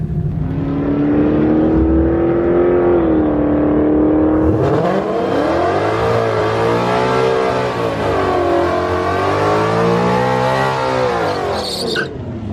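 A naturally aspirated 2018 Mustang GT with GT350 half shafts makes a quarter-mile drag strip pass. The engine revs loudly, climbing through several gear changes in a long, close, continuous roar that sweeps up and down until it fades near the end.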